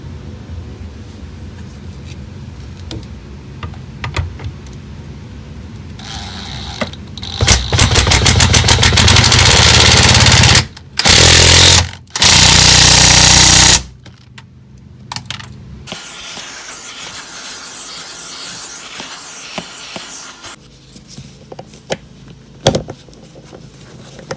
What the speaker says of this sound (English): Let's go underneath with the impact.